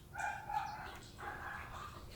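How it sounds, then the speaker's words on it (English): Puppies yip and bark faintly in the background, a few short high barks clustered at the start and again past the midpoint, with no talk over them. "If you hear puppies barking or other noises,"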